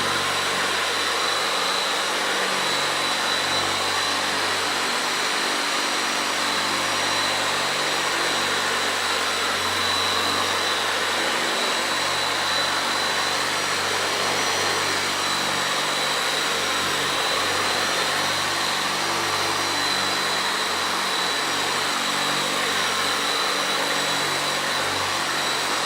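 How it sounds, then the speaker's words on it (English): A Cyclo carpet cleaning tool runs with a towel underneath to draw moisture out of the carpet, giving a steady, loud, broadband whirring hum that holds unchanged for the whole stretch without any voices. "we start up our cyclo tool, and what that does is now the towel pulls the moisture out of the carpet"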